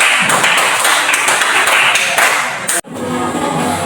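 Loud, dense clapping from a sixth-grade class fills the room for several seconds and then cuts off abruptly, leaving quieter room noise with a few stray claps.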